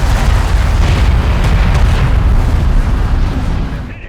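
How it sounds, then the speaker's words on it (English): Explosions and heavy fire pound a turret in the Homeworld: Deserts of Kharak video game, forming a loud, dense, continuous rumble of blasts that holds steady before tapering off at the very end. "One of our turrets is taking fire."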